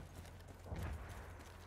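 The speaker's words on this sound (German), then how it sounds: "Und ein scheiß Pferd haben sie auch." Horse hooves galloping in the Battlefield 1 video game, a soft steady clip-clop rhythm under constant low battlefield rumble, moderately distant and fairly quiet.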